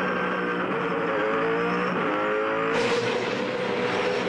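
Supercars race cars, including the Toll HRT Commodore, accelerate hard in single file down the front straight after a safety car restart, a loud continuous engine roar climbing through gear changes with a sharp shift near the end.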